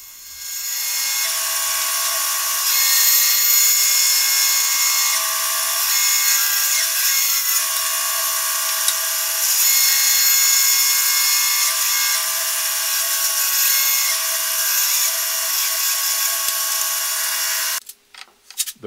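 Power tool rough-cutting wooden corbel blanks for a Mission-style bookcase, a loud, steady, high-pitched whine that runs unbroken for most of the time before stopping abruptly near the end.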